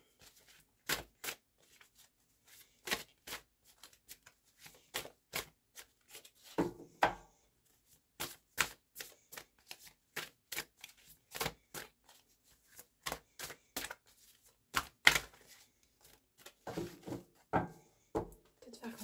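Tarot cards being shuffled and picked, a run of sharp, dry card snaps and flicks coming in irregular bursts, close and fairly quiet, with soft rubbing between them.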